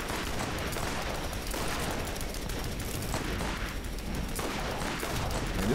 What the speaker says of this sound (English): It's a rocket launcher.